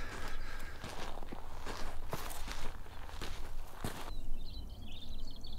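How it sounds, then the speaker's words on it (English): Footsteps crunch along a trail in the quiet desert, a steady walking rhythm of close, crisp steps that stops near the end, leaving faint birdsong. "You hear every footstep you take."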